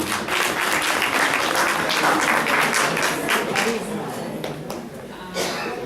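Applause from a meeting audience welcoming a guest, a dense steady clatter of many hands that holds across the whole stretch, softening slightly near the end before a brief swell.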